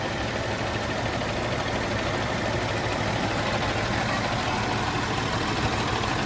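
Diesel engine of a John Deere 300D articulated dump truck, a JD6081H, idling with a steady, dense rumble that holds constant at close range throughout.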